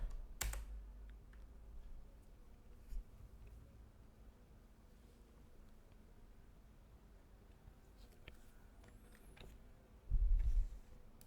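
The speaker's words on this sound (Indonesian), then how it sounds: "Oke, kita pencet execute, lalu kita ketik wiki" Keys clicking on a computer keyboard while a VoIP home telephone server is configured, with sparse, irregular taps over a low steady room hum and a heavier thump near the end.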